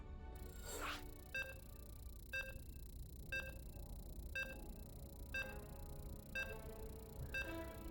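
Short electronic beeps from a StarCraft 2 tournament broadcast, a ByuN versus Dark Terran-versus-Zerg match, sound at a steady pace roughly once a second, about seven in all, over a low background hum.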